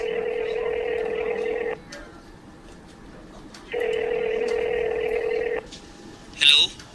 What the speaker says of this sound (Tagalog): Tawagan ko nga si Nico.